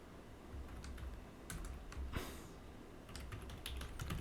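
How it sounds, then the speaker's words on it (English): Fingers tap on a computer keyboard in a quiet room, a faint run of light clicks in small clusters with brief pauses between bursts. "Now we can type here"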